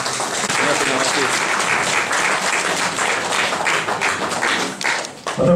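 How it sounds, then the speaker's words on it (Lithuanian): Stormy applause from an audience at a medical workers' day ceremony, dense sustained clapping that fills the moment and fades near the end, with voices faintly mixed in. "Audringi plojimai!"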